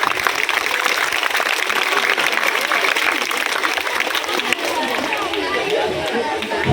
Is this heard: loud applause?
yes